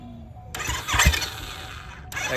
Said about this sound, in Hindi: एक बार इलेक्ट्रा को स्टार्ट कर दो और न्यूट्रल में करके छोड़ देना।